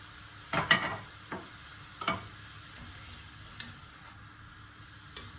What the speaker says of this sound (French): une fois qu'il commence à revenir, comme ça, on rajoute notre ail